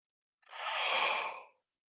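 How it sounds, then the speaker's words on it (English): One long, breathy exhale from a person yawning, close to the microphone, swelling and then fading over about a second in an otherwise quiet room. "I apologize for yawning in your faces."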